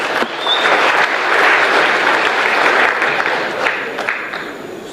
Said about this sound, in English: A better hand of applause.